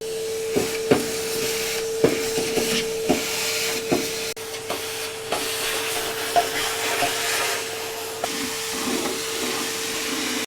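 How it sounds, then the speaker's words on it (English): A Henry vacuum cleaner hoovering the floor of a 1971 VW Bus, a continuous close hissing roar with a steady tone, punctuated by repeated knocks and clatters as the nozzle bumps the floor. "When you're hoovering out the floor of your van, you want to start with a Henry"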